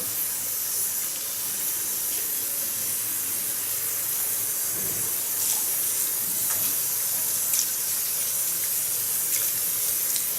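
Water spray rinsing shampoo out of long hair before a perm, a steady close hiss of running water that continues evenly throughout without speech.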